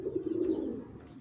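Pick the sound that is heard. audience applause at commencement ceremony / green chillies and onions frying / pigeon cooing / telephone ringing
pigeon cooing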